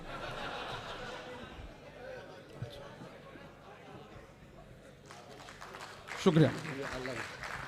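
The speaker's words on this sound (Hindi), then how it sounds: "एक बार आप ताली बजा करके मुझे माहौल दें" An audience claps at a poetry recital. Scattered hand claps and crowd chatter sit under a speaking voice, then a burst of louder clapping and some laughter rises near the end.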